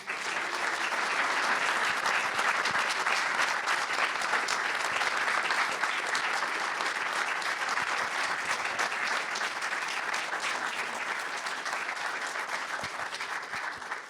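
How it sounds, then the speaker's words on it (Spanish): Steady, dense audience applause fills a hall at an awards gathering, many hands clapping evenly and continuously for the full length without a break, fairly distant and uniform in loudness. "¿Les damos un aplauso?"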